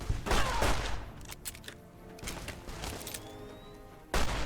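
Gunfire from a weapon in Fallout: New Vegas during a fight with Legion raiders on a bridge, several sharp shots in a quick cluster early, then scattered bangs and impacts, with another loud blast at the end.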